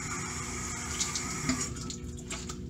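Cool tap water runs and splashes steadily from a bathroom faucet while someone rinses their face, a continuous hiss with small splashy bursts and no talking.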